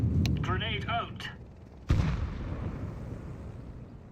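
A grenade goes off in Counter-Strike 2 as a single sharp boom with a long rumbling decay, right after a burst of game voice chatter.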